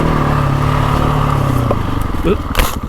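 A GasGas ES 700 motorcycle engine is being run in on a wooded off-road track, rolling on and off the throttle without full power. It sounds as a loud, close, steady drone that dips and shifts near the end.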